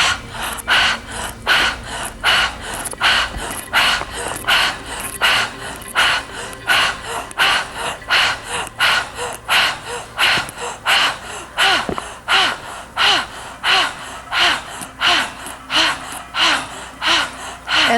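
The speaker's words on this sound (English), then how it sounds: "We're just going to inhale and bring our hands up and exhale and bring them down, but we're going to do it quickly" Rapid breath-of-fire breathing exercise: quick, forceful inhales and exhales puff through the nose in a steady, driving rhythm of close, loud bursts, repeating evenly throughout with no talk over them.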